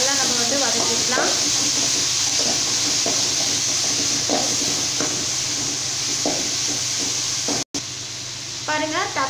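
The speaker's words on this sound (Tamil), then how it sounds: "இப்போ வந்து வெங்காயம் தக்காளி சேர்த்து நல்லா நம்ம வந்து வதக்கிக்கலாம்" Onions and tomatoes sautéing in a pan for a shallot and tomato sambar, a steady close sizzle and hiss running throughout with occasional stirring clinks and faint voice-like sounds in the background.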